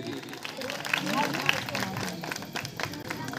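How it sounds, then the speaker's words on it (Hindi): Crowd at a Ramlila awards show applauding a boy, scattered clapping and hubbub heard somewhat faintly in an open setting, with a voice speaking over it. "बहुत बहुत जोरदार तालियां लड़के के लिए भी।"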